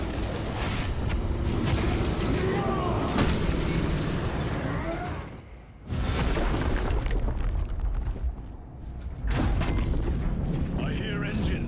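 Spaceship engines in the Space Marine II video game, a loud continuous rumbling roar with booming bursts, briefly dropping away twice before surging back, dense and close throughout.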